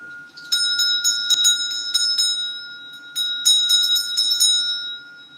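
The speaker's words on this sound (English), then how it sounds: "They don't like when you sound the bell." A small, bright bell is struck repeatedly in quick, uneven bursts, each strike ringing on with a clear sustained tone, close and alone without talk.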